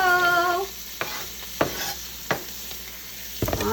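Vegetables hit a hot, deglazed chicken roasting pan with a loud crackling sizzle after a brief squeal, followed by several sharp clatters and stirring clunks over a steady frying hiss.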